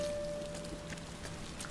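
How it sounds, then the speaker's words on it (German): Steady rain falls in the video game Rime, a soft, even patter of drops with faint scattered ticks and a low tonal hum of game ambience underneath, quiet and continuous. "Da wird mir selber kalt, wenn ich das sehe, wie es so regnet hier."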